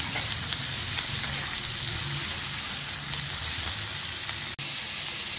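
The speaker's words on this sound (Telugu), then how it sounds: "ఇప్పుడు ఉల్లిపాయలు బాగా మగ్గాలి." Onions and curry leaves fry in a pan, giving a steady dense sizzle that runs without a break at close range, with faint stirring beneath it and no talk.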